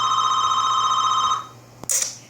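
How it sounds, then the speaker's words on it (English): A phone ringing with a steady electronic tone, loud and near, that holds for about one and a half seconds and then cuts off, followed by a brief click and a faint rustle. "Yeah, sorry about that. That was my phone."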